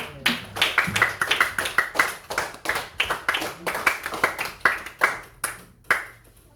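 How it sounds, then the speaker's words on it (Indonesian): Teachers and students in a classroom lesson clap together in a rhythmic group pattern, sharp close hand claps in repeated bursts with brief pauses between them and some voices mixed in. "Tepuk tangan buat kita semua dulu."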